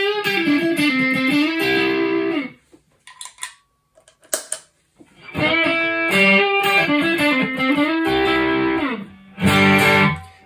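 Heavily distorted electric guitar through a TC Electronic Ampworx preamp pedal plays thick chords and riffs, pausing briefly for scratchy muted picking before loud, saturated strumming resumes.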